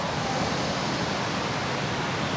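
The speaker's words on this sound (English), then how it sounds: "you may hear the ambient noise of this beautiful fountain behind me" Steady, dense splashing of a fountain in Cusco, Peru, a constant broadband wash without pauses, close and fairly loud.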